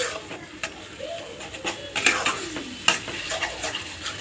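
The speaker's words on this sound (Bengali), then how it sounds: "এবার এই মশলাটা কিন্তু আমি কষাবো, কষিয়ে তেল ছেড়ে এলে তার মধ্যে দিয়ে দেবো সেদ্ধ করা মাটনটা।" Spice masala sautéing in oil for a mutton curry, with close spatula stirring and scraping against the pan over a low, crackling sizzle, and a few sharper clinks.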